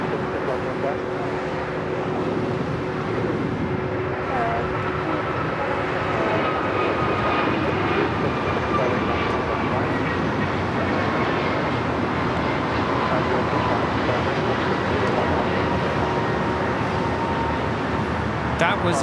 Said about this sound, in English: was American Airlines 636 taking off to Charlotte on the A321neo.